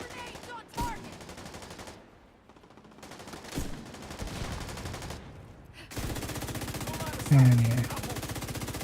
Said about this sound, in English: Back to just normal shooting